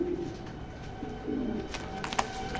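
Red checker racer pigeons coo softly in a low, rolling burble, with a couple of brief sharper calls near the end, close by over light background noise, no talking.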